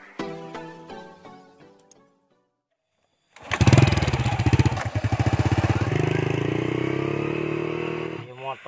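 After a stretch of singing and a brief silence, a motorcycle taxi's engine fires up loud and close, runs with uneven pulsing sputters, then cuts out abruptly as it stalls.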